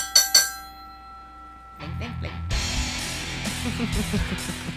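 Bright bell strikes ring out twice near the start as a podcast segment cue, clear and close, followed by a brief pause and then people talking and laughing.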